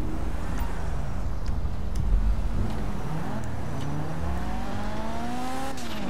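A motorcycle engine in the video game GTA V drones continuously, its pitch climbing and falling as it revs and shifts, loud and steady with no speech.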